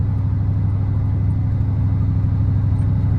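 A project car called Constance, fitted with a new exhaust, is on a test drive. Its engine gives a steady, deep, continuous rumble from inside the car, with no talking.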